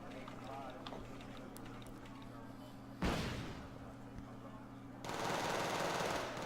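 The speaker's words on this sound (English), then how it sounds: "T-72B's taking shots. And still moving, so it's firing on the move." A T-72B tank in a video game fires a single heavy cannon blast while moving, which booms loudly and then rumbles away. Lighter gunfire ticks before it and a hissing roar follows, all under someone speaking.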